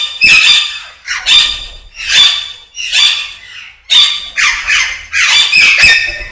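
Young Alexandrine parakeets squawk loudly and close at a large bird nursery, about eight harsh, rasping calls in a rough rhythm, each separated by brief gaps.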